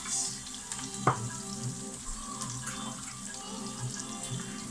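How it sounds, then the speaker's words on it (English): Garlic and ginger paste sizzles in a frying pan for a bean curry, a soft and continuous hiss at moderate volume, with one light clink from a utensil early on. "we're looking at the garlic and ginger pastes going in"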